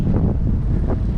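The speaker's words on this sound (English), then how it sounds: "And the wind started howling." Strong gusts batter the microphone on the Shark Valley Everglades bike trail, a loud, low rumbling roar of wind that swells briefly, with no voices.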